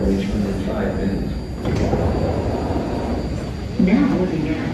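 A BART commuter train at 12th Street Oakland City Center station rumbles with steady low rail noise and a door-like whoosh, while a faint announcement-style voice and talk sit under it throughout.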